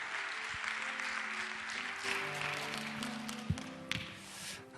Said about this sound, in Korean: 목사님 나오실 때 큰 환영의 박수로 환영하도록 하겠습니다